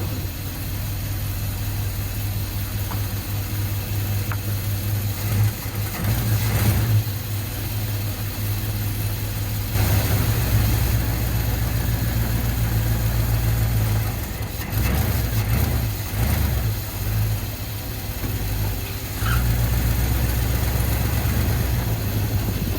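A Ford Bronco with a 351 V8 runs and drives, a loud, close low engine drone that rises and falls with throttle changes and shifts, steady throughout with no voices.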